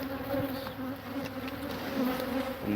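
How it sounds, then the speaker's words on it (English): Bees hum in a dense, steady buzz around an open bucket of pre-mixed sugar at an outdoor bee yard, many insects close by and continuous throughout. "hopefully all these bees don't land in it"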